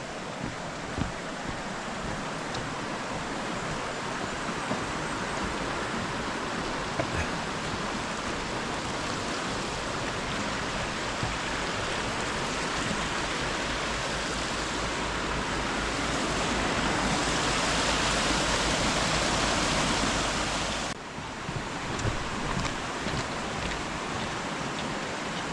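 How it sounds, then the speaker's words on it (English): The River Fillan in the Scottish Highlands flows as a steady, broad rushing wash of water, close and unbroken, briefly swelling louder before settling again, with no voices over it. "That's the River Finnan."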